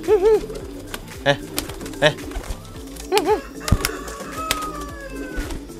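Kolong pigeons coo in short repeated bursts nearby, with a few soft rustles and thumps between calls.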